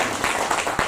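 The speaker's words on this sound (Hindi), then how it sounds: "हमारे शशिकांत पाटिल जी का तहे दिल से तालियों के साथ स्वागत करते हैं" Audience applause welcoming a guest at an interview event at QMTI in Pune, India, heard as a short, steady wash of clapping at moderate level with a few sharper peaks.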